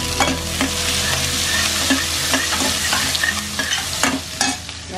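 A spoon stirs kadhi, a gram-flour and yogurt curry, in a cooking pot, scraping in repeated irregular strokes over a steady background hiss of simmering. It is close by and there is no talking.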